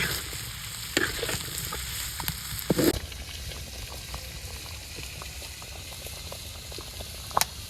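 Water bubbling at a steady boil in a cooking pan with potatoes and tomatoes in a village kitchen, a continuous close fizzing seethe with scattered pops and a few sharper knocks, no talking.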